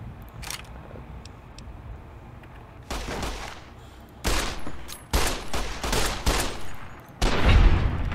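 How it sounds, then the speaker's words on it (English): Shotgun blasts from Fallout: New Vegas, a sturdy caravan shotgun, fire in a handful of separate loud booms spaced a second or so apart over a quiet ambient bed. "Sturdy caravan shotgun."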